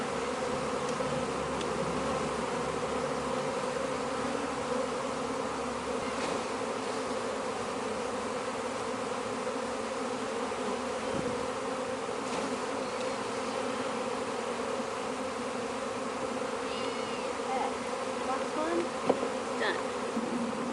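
Honey bees from a Taranov split hive pour out onto a cloth, a dense, steady buzzing swarm that holds at an even level throughout with no voices.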